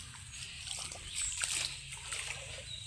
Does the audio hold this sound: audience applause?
no